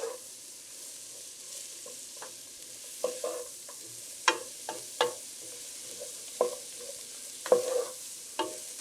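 Onions sautéing in a pot for chicken dumpling soup, a soft background sizzle broken by a series of irregular spoon knocks and scrapes against the pot, close and fairly quiet without talk.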